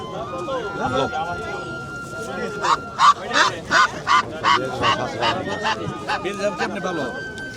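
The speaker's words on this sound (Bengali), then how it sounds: "আর এই হচ্ছে একটা বেলজিয়াম হাঁস" A run of loud, rhythmic honking calls from a Belgian duck close by, repeated about a dozen times, with people talking in the background at a market near the Padma river.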